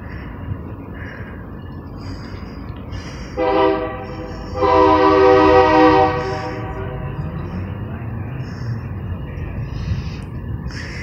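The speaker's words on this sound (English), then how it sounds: "There's a train coming." A local freight train at a railroad crossing sounds its horn in two blasts, a short one then a longer sustained chord, over the steady rumble of the passing train.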